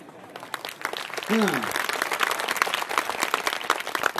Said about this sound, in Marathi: मी सुरुवातीलाच सांगितलं टाळी वाजवायची तर अशी इमानदारीनं